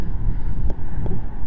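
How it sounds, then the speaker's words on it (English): Strong wind buffets the microphone with a steady, loud low rumble and gusty roar, with a couple of brief knocks outdoors at a metal-detecting site. "Forgive me for this wind. It is really blowing."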